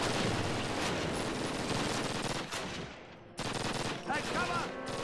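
Video game gunfire in Call of Duty at a train station: rapid, dense bursts of automatic weapons fire that stop abruptly, then resume, with faint voices mixed beneath.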